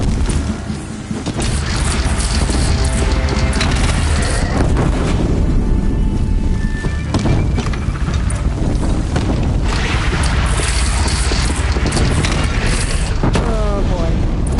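A wooden bridge shot down and collapsing in the video game Horizon Zero Dawn, a loud, sustained rumbling crash with booming impacts that roars on for many seconds.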